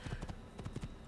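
A horse's hooves clip-clop in Assassin's Creed, several quick, close, soft thuds in an uneven trotting rhythm.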